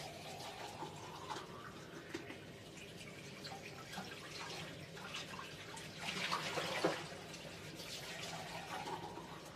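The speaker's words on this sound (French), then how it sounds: "on rince la boîte avant l'utilisation" A cut tin box is rinsed under tap water: a soft, steady stream splashes and trickles nearby, swelling briefly near the end, fairly quiet throughout.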